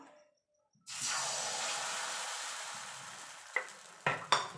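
A ladle of chitoi pitha batter hits a hot pan over low gas: after a brief silence, a sudden loud hiss and sizzle that slowly fades, followed by a few sharp clinks near the end.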